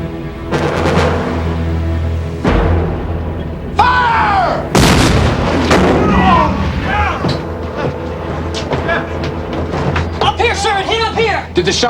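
Cannon shells fire and slam against a Civil War ironclad warship in a 1991 drama, heavy booms and metallic impacts echoing around the enclosed hull, with shouting voices and alarmed talk between blasts.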